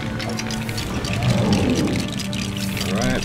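A water cannon sprays a steady rushing, pouring gush in the Lego Marvel Super Heroes game on PC, continuous and fairly loud across the whole stretch, with game music and effects layered in.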